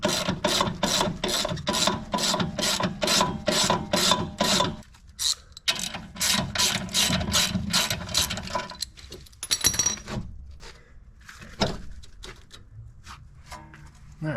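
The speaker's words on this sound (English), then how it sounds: "I'm going to unbolt this top control arm from the knuckle" A ratchet clicks rapidly in repeated bursts while a top control arm is unbolted from the knuckle on a Honda Civic Si rear suspension, close and fairly quiet, followed by slower scattered clicks and metallic handling.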